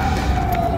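An ambulance siren sounds through the whole brief moment, a steady tone held under a constant background.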